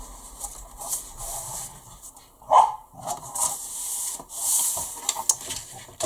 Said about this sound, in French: Désolée pour les chiens qui aboient